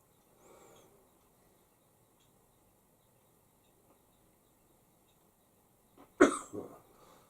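A single sharp sneeze bursts out close by after several seconds of near silence, with a faint breathy sound earlier.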